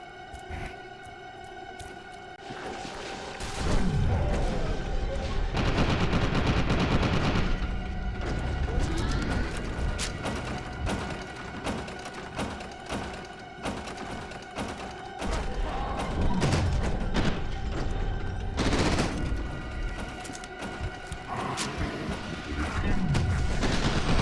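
Gunfire in F.E.A.R. 2: Project Origin, a first-person shooter: repeated loud shots and bursts crack out one after another over a dense, clattering combat soundscape with thuds and eerie tones.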